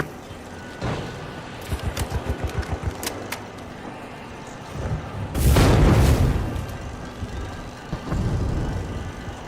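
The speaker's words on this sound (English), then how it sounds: "Using gas grenade." A gas grenade goes off in a video game with a heavy rumbling burst in the middle, following a quick run of rhythmic gunfire thumps, and another lower rumble comes after it.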